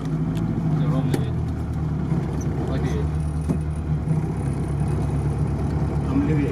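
Off-road car steered by a blindfolded driver, its engine droning steadily at close range beneath continuous talking from the people inside.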